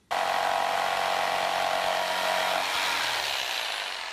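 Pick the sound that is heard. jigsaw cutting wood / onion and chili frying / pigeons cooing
jigsaw cutting wood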